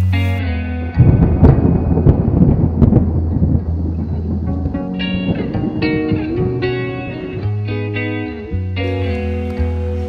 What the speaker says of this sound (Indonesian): petir nyambar di awan sebelah sana